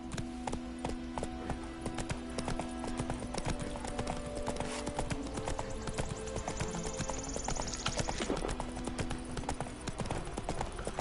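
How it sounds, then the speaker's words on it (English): Roach, Geralt's horse in The Witcher 3, trots with a steady, close clip-clop of hooves over a busy game soundscape, with no talking. "Luckily, Geralt can always count on his horse, Roach, to help him in his travels."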